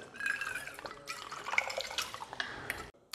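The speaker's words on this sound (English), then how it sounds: "The second one is a cross pour," Liquor free-poured from a bottle with a spout using a cross pour behind a bar, a faint, steady trickling stream with small splashes for a few seconds before stopping.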